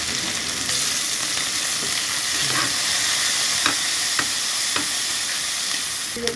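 Chopped onion and green chili frying in oil in a pan after fish has been fried: a loud, dense, continuous sizzle with occasional faint stirring clicks, no talking.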